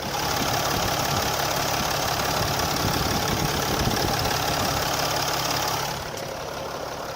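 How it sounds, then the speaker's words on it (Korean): A Mercedes-Benz ML350 4MATIC SUV's V6 engine idles steadily with the air conditioning on, a constant rumble and mechanical hum, close and loud, then eases slightly quieter near the end. "바로 엔진 소리 한번 들려드릴게요."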